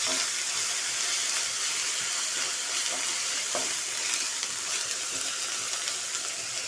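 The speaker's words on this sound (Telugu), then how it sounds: "అల్లం వెల్లుల్లి పేస్ట్ వేసాను. అది కూడా ఆయిల్లో పచ్చివాసన పోయేదాకా వేయించుకుందాము." Ginger garlic paste sizzles in hot oil with fried onions, a steady, dense hiss of frying heard up close with no voices.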